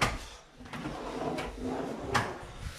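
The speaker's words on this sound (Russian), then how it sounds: "Вот выдвижные ящики типа тандем, но вот этих работают плавненько, без всяких проблем." Tandem-type pull-out drawers in a wardrobe slide open and shut smoothly, giving soft rolling runs and a couple of light thuds as they reach the end of travel, close by with no talk.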